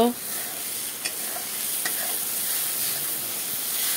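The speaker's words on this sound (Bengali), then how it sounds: "এখন সম্পূর্ণ মশলাটাকে ভালো করে কষিয়ে নেব।" Spice paste for a Bengali egg curry fries in a pan, a steady close sizzle with occasional scraping stirs, alone without any voices.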